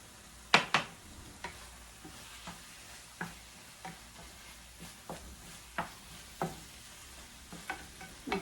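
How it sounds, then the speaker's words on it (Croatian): White onion frying in a pan, a low sizzle broken by a series of sharp scraping stirs and clacks at irregular intervals, close and moderately loud, no speech. "samo da luk se malo ovaj bijeli uprži"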